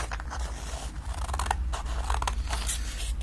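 Scissors snip through a small strip of paper in a series of close, crisp cuts and scraping strokes, heard alone over a steady low hum.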